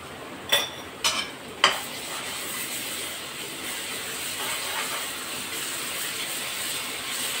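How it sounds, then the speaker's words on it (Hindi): Onion frying with garlic ginger paste for tamatar bhindi sabzi, stirred in a pan: three sharp spoon scrapes and knocks near the start, then a steady close sizzle and hiss. "लहसुन अदरक पेस्ट का कच्चापन निकल जाए थोड़ा, तब तक इसको हिलाते रहेंगे।"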